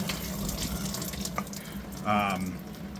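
Antifreeze coolant pours out of a coolant line on a Ford F150 diesel during an exhaust manifold job, a steady splashing stream of liquid that runs continuously with a brief voice partway through.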